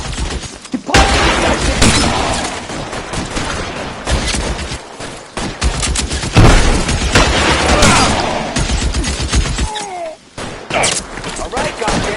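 Gunfire in the video game L.A. Noire, repeated loud shots and bursts across a noisy firefight, mixed with shouting voices.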